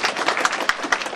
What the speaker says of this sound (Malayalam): നിങ്ങൾ അക്സെപ്റ്റ് ചെയ്യുന്നതിന്റെ അടയാളമായിട്ടല്ലേ ഒന്ന് കൈയടിച്ചാൽ